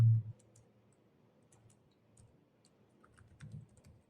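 Typing on a computer keyboard while filling in an address on a visa form: sparse, light key clicks, close and quiet, with a soft thump at the start and a few quicker taps near the end.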